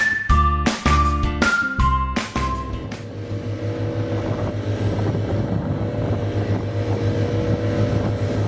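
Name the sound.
local boat engine on the sea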